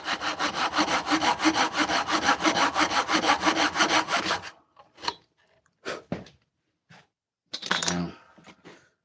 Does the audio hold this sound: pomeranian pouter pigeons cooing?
no